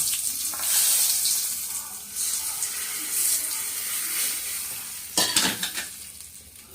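Hot oil sizzling steadily in a pan as a spice tempering fries for ridge gourd chutney, with stirring and clinks, a sharper burst of crackling near the end.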